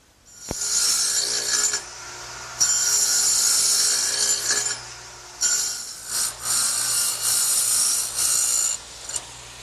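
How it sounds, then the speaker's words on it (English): A dado blade set on a saw plows wide cuts into wood for a workbench, loud bursts of high cutting noise in several passes separated by brief pauses, with no talk. "a dado cutting blade"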